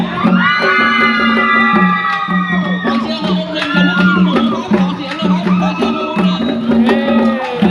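Young crowd at a school football match cheering and shouting for team 671, a loud continuous roar of children's voices with whoops rising and falling throughout.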